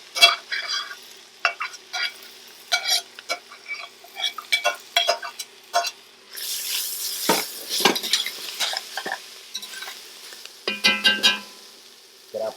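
Vegetables hit hot avocado oil in a pot over medium-high heat, giving a bright, close sizzle that surges partway through while a utensil scrapes and taps steadily against the pot.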